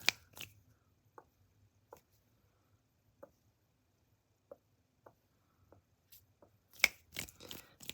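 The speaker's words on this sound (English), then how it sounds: "We'll do some finger snaps to close you out" Close, soft finger snaps sound one at a time in a quiet room, about a dozen sharp clicks spaced irregularly, with a cluster of hand rustles near the end.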